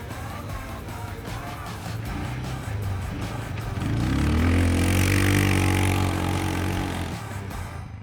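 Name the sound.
cheap 4x4 ATV driving off-road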